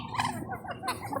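Pet ducks kept alongside white leghorn chickens call out in a cluster of nasal honks and squawks, close by and fairly loud, with overlapping bird voices throughout.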